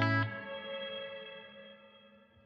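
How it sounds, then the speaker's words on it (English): An electric guitar chord rings through a shimmer reverb in the JST ToneForge Jeff Loomis plugin, a bright attack that swells into a sustained, harmonically rich wash slowly decaying over two seconds. "We got a Shimmer."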